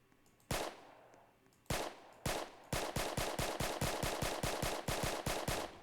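A gun in a Roblox video game fires, starting with a few spaced single shots and then breaking into a rapid, steady stream of sharp automatic bursts, loud and close with no talking.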